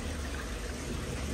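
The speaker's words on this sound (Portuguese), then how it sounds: "O circulador aqui já vai começar a fazer o trabalho pra gente." An aquarium circulation pump moves the water with a steady, broad churning wash, constant and close, with no speech over it.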